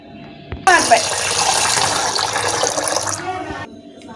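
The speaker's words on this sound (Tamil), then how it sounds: "நெக்ஸ்ட்டு இதை தண்ணியில் கொஞ்ச நேரம் போட்டு கழுவிடுங்க" Water pours and splashes steadily over freshly sliced potatoes being rinsed for potato chips, close up, lasting about three seconds before stopping, with no talking.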